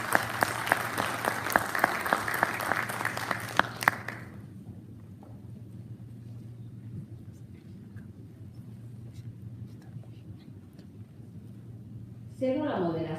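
Audience applause at a university event as two speakers go up on stage: dense, steady clapping for about four seconds, then a low hum in a quiet hall, with a few faint sounds near the end.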